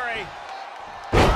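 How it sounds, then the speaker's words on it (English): A loud, heavy slam thuds in at the very end of a WWE 2K22 women's championship match between Violet and Sasha Banks, following a stretch of quieter game noise and faint voices. "Oh, a slam!"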